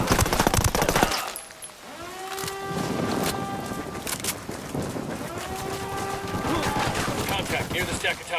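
Video game gunfire: a sharp burst of automatic shots opens, then sustained firing continues under whining, tonal game effects, loud and close throughout.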